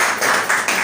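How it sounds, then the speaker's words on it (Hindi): Dense audience applause for a third-place prize winner at an award announcement, many hands clapping together in a steady, continuous wash at close range, with no pause. "इनके लिए बहुत सारी तालियां एक बार और हो जाए"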